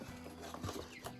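Nine newly arrived chickens clucking faintly in a box, a few soft clucks and rustling in a quiet space.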